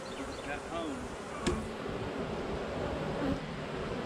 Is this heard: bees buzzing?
yes